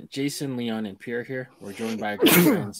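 A person sneezes loudly and abruptly near the end of a stretch of casual indoor group talk, the burst rising above the voices of men chatting close to the microphone.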